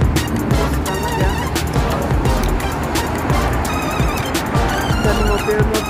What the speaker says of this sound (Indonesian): Dan mobil-mobil yang sedang macet dan juga sedang jalan kencang ya teman-teman.